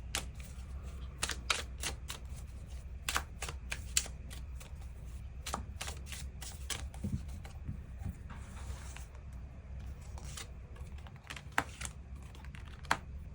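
Tarot cards are shuffled and drawn close by, producing a long run of crisp, irregular clicks and flicks over a low background hum, with no voices.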